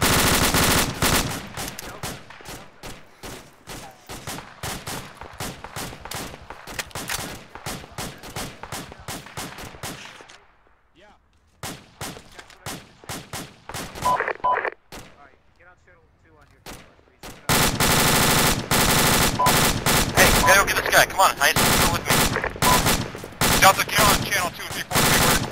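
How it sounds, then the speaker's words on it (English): AK rifle fire in the military video game Arma 2, with long bursts of rapid loud automatic shots, a brief lull, then a dense barrage resuming as players talk over it. "Got AK fire west-southwest."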